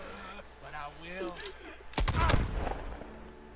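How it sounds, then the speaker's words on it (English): Gunfire in the video game Red Dead Redemption 2, a loud sudden burst of shots near the two-second mark that fades out, following a stretch of excited shouting voices. "He's escaping! Shoot him!"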